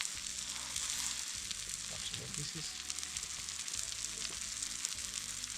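Baguette pieces toast in butter in a pan over a campfire outdoors, giving a continuous soft sizzle with faint clinks and shuffling handling noises close by.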